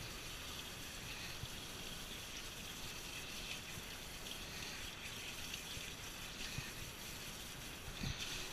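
Steady rushing and splashing of water rinsing a soaked shih tzu during a bath, a continuous close gush from a tap or sprayer that stays even throughout.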